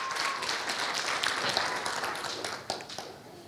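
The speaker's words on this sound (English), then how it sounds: "Let's clap for those people who went." A church congregation at a Sunday service claps together, a soft, fairly distant patter of applause with a few sharper claps, sustained for several seconds.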